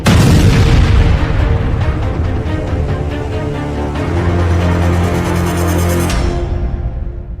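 Massive explosion at a Russian weapons depot in Krasnodar, where stored ammunition and bombs caught fire: a sustained, loud, deep rumbling roar with layered booms that holds for several seconds before cutting off abruptly.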